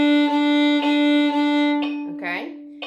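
A bowed string instrument sustains one steady note, pulsing in short repeated strokes, then a voice speaks briefly at the end.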